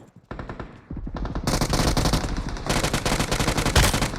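Automatic gunfire in PUBG Mobile comes in loud, close, rapid bursts that run almost continuously, with short gaps between volleys and a few heavier shots near the end.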